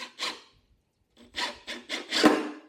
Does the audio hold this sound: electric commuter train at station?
no